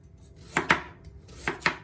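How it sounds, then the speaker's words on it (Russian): A knife chops lengthwise through a carrot on a board: four sharp, close cuts in two quick pairs, with no talking. "Я нарезаю вот так вот вдоль."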